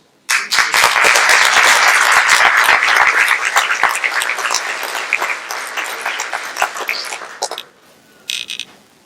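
A community celebration crowd gives a loud round of applause, dense clapping sustained for about seven seconds before trailing off, followed by a brief scatter of a few final claps.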